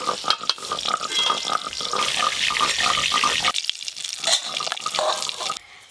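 Eggplant slices frying in hot oil in a home kitchen: a steady crackling sizzle with rhythmic scraping and stirring clicks, close by; the sizzle quiets halfway through, then resumes more softly.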